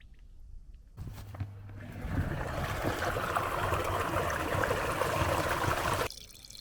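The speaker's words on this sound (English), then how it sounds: "It's been draining for about, I don't know, half hour. It's still going whilst I'm waiting." Water drains steadily from a French drain outdoors in freezing weather, a continuous close rushing trickle that starts abruptly after a quiet second and runs for about five seconds before stopping.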